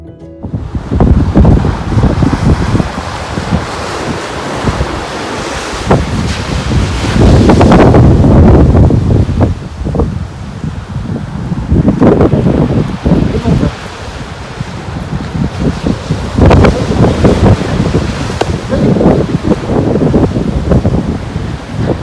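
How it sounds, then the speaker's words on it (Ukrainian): Strong wind roars into the microphone over North Sea waves breaking on the shore, loud gusts swelling and fading, with someone talking at times beneath the buffeting. "щоб ви почули шум моря, але, як бачите, вітер тут, як завжди"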